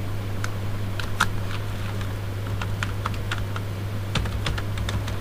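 Rapid, irregular keystrokes on a computer keyboard while a form title is typed, close and clear over a steady low electrical hum, with no speech.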